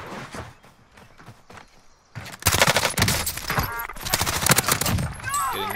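Gunfire in the Call of Duty Warzone video game, with quieter, scattered shots and movement at first, then loud, rapid bursts of close automatic fire that run on to the end.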